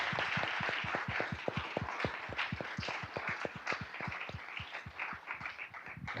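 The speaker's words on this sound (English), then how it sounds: "So let's give them a round of applause." An audience applauds panelists at an alumni forum on venture capital, a dense run of many hands clapping steadily and loud, with no voices over it.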